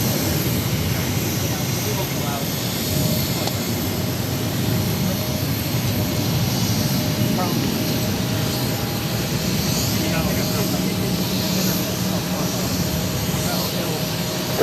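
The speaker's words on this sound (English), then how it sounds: "2255 taking off to Washington Reagan National on an E190" An Embraer E190 jet taking off from Boston Logan, a loud, continuous broadband engine roar that holds steady and near for the whole stretch, with air traffic radio chatter heard faintly underneath.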